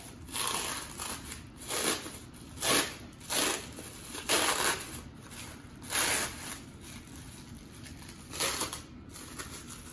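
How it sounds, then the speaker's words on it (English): Plastic wrap peeled slowly off a log of vanilla cookie dough for chocolate pinwheel cookies, giving close crinkling and rustling in irregular bursts over a steady background hiss. "you don't want to take off the dough onto the plastic wrap that you're removing"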